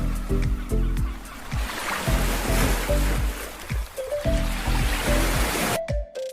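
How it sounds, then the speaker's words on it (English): Water sloshing and splashing against a white sailboat's hull, a continuous wash of spray and waves with repeated surges, loud and close throughout, ending abruptly. "The sailboat says splash,"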